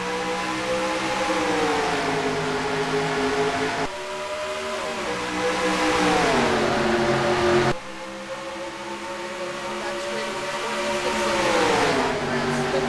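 Stock cars in a Dover race on a NASCAR-style video game roar past loudly and continuously, engine pitch sliding downward in repeated sweeps as cars pass, with faint commentary voices underneath.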